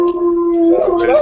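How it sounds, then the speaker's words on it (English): A dog gives a single loud, close howl that holds a steady pitch and then wavers and rises as it trails off. "Whose dog is that?"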